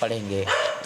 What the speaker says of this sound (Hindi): कुत्ते लोग भी भौंक रहे हैं